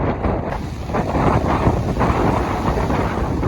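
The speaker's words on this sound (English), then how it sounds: "It is indeed very windy" Strong wind buffets the microphone in a loud, constant roar on a beach in Destin, Florida, with surf rumbling beneath it.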